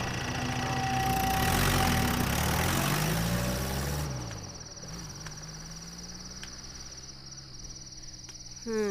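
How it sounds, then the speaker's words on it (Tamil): A vehicle engine starts and then idles steadily at a low rumble, with loud insect or cricket chirping over it at first, which then fades, leaving the engine idling alone in a quiet night setting. "போட்டு வண்டி எடுப்பா."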